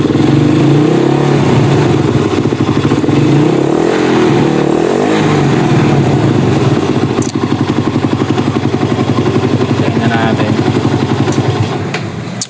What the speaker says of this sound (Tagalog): Rev natin ng konti.